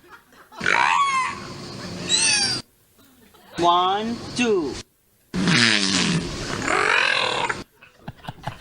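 A whale trained to imitate human speech gives three loud, close bursts of warbling, reedy calls separated by short silences, its pitch sweeping up and down like an attempt at counting words.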